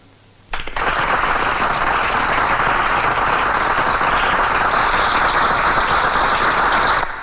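Sudden burst of applause from a crowd, starting abruptly and holding steady and loud for several seconds before trailing off.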